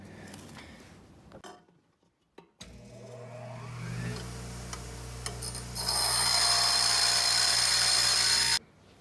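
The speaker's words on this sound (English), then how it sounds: "We're gonna grind this down." A metal foot peg for a Coleman CT200U mini bike is ground down by a power grinder, with a spin-up whine that becomes a loud, sustained harsh grinding before stopping abruptly.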